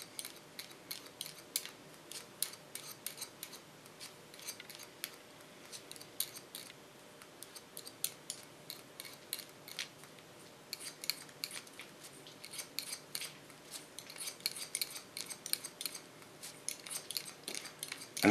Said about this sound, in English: I love the sound of this scissors of comb technique